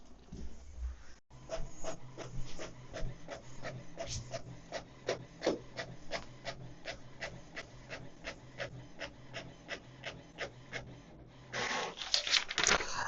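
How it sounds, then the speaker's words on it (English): An HP Smart Tank 670 inkjet printer runs a print job, giving a steady series of rhythmic mechanical clicks and whirring passes, close and clear with no talking. "tap on print and let the printer to do its job"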